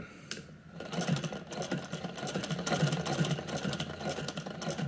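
A vintage sewing machine stitches a fabric bag, a close, steady mechanical whirr with rapid rhythmic clatter after a brief pause at the start.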